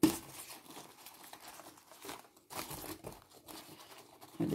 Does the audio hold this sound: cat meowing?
no